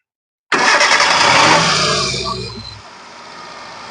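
A petrol car engine, in a low-budget used car at a dealer in Vellore, Katpadi, is started during an inspection with the radiator open, bursting in loudly and then settling to a steady idle with no talk.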